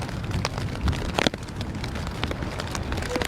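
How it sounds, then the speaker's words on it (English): Rain falling steadily at an outdoor youth baseball game, a dense hiss of drops with occasional sharper patters, no talk. "Rain's starting to fall a little heavier here too"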